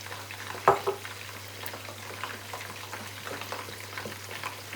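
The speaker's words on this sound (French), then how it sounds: "Maintenant, je vais rajouter la tomate concentrée." Tomato paste fries and sizzles in a pot of red rice with fish over low heat, with a steady quiet sizzle and soft scraping as a spoon stirs it, plus a brief clank of utensil against the pot.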